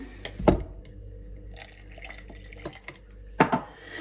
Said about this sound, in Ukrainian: Подрібнюємо сочевицю, додаємо воду